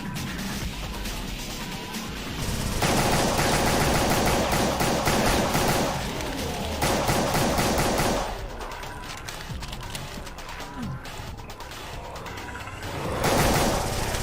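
Pistol burst fire in the GZDoom mod Extermination Day, loud rapid volleys of game gunshots in long dense stretches broken by brief quieter gaps, then another burst near the end.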